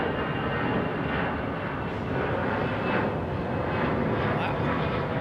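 An Etihad airliner departs at sunset, its engines giving a broad, continuous roar that holds steady and loud throughout.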